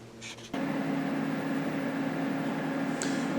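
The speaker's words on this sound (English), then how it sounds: "we're going to turn on our stove top here, and we're going to get this going" A stovetop burner switches on with a brief click, then a steady, loud whooshing hum continues unchanged beneath a pot set out for simmering homemade chicken stock.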